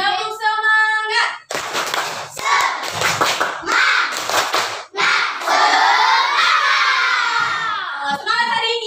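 Schoolchildren in a combined class 2 and class 3 perform a rhythmic spirit clap chant, sharp bursts of hand claps and loud unison shouting alternating in a quick pattern, with the children's voices close and dominant.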